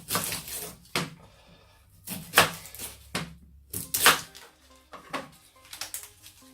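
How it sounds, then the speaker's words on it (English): Onions chopped on a board for a vegan black bean chili, a series of sharp knife strikes coming in irregular clusters, close and fairly loud with short pauses between. "So I'm just going to chop some onions."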